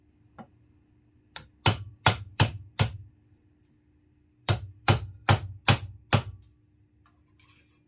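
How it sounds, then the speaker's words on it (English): Sharp metallic hammer blows on a sterling silver spoon ring ring out in two bursts of four and five, evenly spaced, with a single lighter tap before and a faint clink after. "I've put the hammer to it a couple of times"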